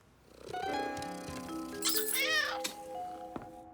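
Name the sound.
cat purring and meowing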